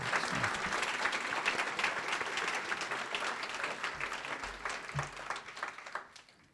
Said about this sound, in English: would you all please give them another round of applause?